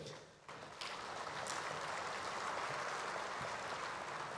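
An audience at a Selangor school aid handover ceremony claps steadily, a dense sustained round of applause that swells after a brief quieter start and holds loud throughout.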